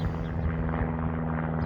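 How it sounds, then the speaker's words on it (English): A loud aircraft drones steadily overhead near a residential pressure-washing setup, a constant low engine roar with propeller-like buzz and no talk. "What up, loudest plane known to man?"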